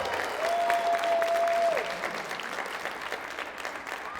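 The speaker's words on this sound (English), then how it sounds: "Big round of applause." An audience at a school future-chefs cooking event applauds, a dense steady clapping that holds loud and then tapers, with a brief high feedback tone early on.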